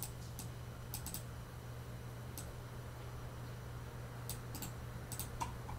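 Typing on a computer keyboard: sparse clusters of light, crisp key clicks scattered over several seconds above a low steady hum, quiet and close with no voices.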